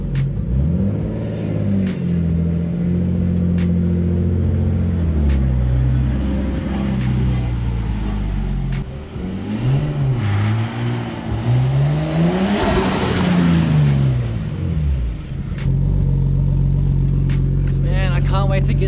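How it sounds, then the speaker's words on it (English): A tuned car with a turbo revs repeatedly, engine pitch rising and falling in loud surges with fluttering turbo chatter on the lift-offs, close by, with voices talking over parts of it. "I hope you guys like that turbo flutter."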